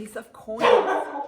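A dog barks close by in a short burst under a woman's speech, with a louder yappy stretch in the second half.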